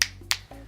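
Two crisp finger snaps about a third of a second apart, used as a beatnik-style clap, sharp and close with no talking.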